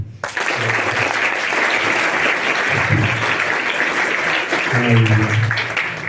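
Steady applause from an audience at a motivational talk for university students, loud continuous clapping with a few low voices murmuring underneath at moments.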